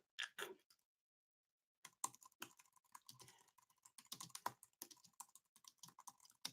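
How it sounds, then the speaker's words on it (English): Rapid typing on a computer keyboard, a dense patter of quick key clicks after a brief pause, close and fairly quiet. "Can you hear me typing like mad?"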